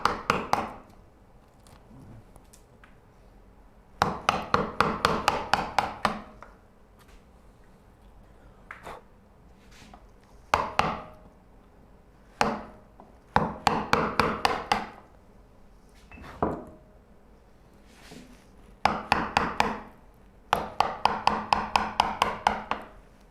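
Chisel chipping out a wooden sliding dovetail for a Moxon vise: quick bursts of sharp mallet-on-chisel taps in rapid clusters, separated by short pauses and occasional single knocks, close and clear with no talk.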